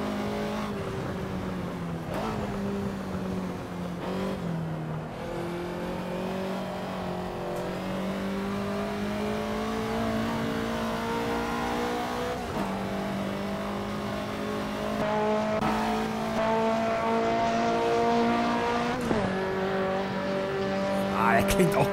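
A Ferrari 288 GTO in the racing game Assetto Corsa drones steadily from an outside view, its engine tone rising and falling with shifts and revs, with brief tire squeal and someone talking over it.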